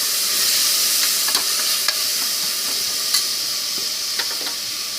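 Chopped tomatoes hit sautéed onions in a pan for chicken curry, giving a bright hissing sizzle with a few sharp scrape-and-stir clicks of a spoon at intervals.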